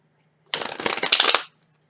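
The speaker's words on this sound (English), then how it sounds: "One more shuffle for Gemini." Tarot cards riffle-shuffled in one close, brisk burst of about a second, dense papery flutter with no voices over it.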